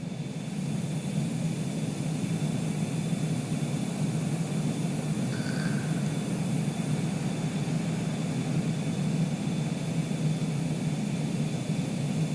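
A Cessna Longitude business jet in flight in Microsoft Flight Simulator 2020 makes a steady, unbroken cabin drone of engine and air rush, with a brief faint chime partway through and no voices.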